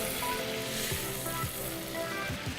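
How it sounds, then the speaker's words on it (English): Butter and oil sizzle steadily in a very hot pot for a risotto, a broad continuous frying hiss with faint clinks and bubbling, fairly close and with no talking. "So I'm going to be adding now the butter and the oil to this"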